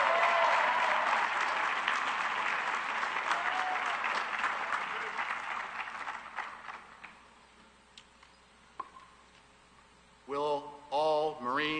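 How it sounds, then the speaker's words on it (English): An audience applauds a graduate at the U.S. Merchant Marine Academy commencement ceremony, steady loud clapping in a large hall that thins and fades out before a speaker's voice returns. "Please join me in a round of applause for this outstanding graduate."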